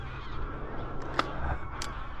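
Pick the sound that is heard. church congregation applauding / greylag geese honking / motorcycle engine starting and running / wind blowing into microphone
greylag geese honking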